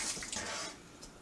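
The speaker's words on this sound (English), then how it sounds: "Put a little water inside here." Water splashes into a scrubbed, soapy Sanke keg during cleaning for homebrew kegging, giving a steady watery hiss and faint drip sounds, fairly quiet.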